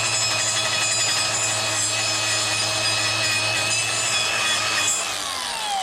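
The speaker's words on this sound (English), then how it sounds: "I got an angle grinder here with a wire wheel." Angle grinder fitted with a wire wheel stripping the face of a BBS multi-piece wheel, a loud continuous high-pitched whirring scrape that holds steady throughout and eases slightly at the end, with no talking.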